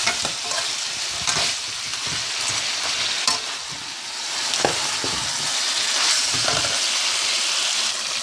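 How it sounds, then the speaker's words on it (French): Tomato paste frying in a pot for a Haitian eggplant stew, with a steady sizzle under repeated scraping stirs of a spoon, close and continuous. "on va bien brasser pour faire cuire les pâtes de tomate"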